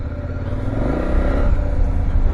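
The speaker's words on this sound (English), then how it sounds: "Quite a nice little note to the motor. I think this is just still the stock pipe" A KTM 1190 Adventure motorcycle engine with the stock exhaust, a deep close-up rumble that builds slightly in loudness as it revs, steady and throaty with no talking.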